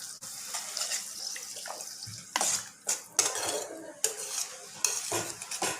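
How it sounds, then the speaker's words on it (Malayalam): Water is poured into a pan of gravy for wheat-flour gobi manchurian and stirred with a metal utensil. Close, irregular bursts of splashing and scraping against the pan stand out over a quiet background. "ഞാൻ അതിലേക്ക് കുറച്ച് വെള്ളം ആഡ് ചെയ്ത് പോവാണ്"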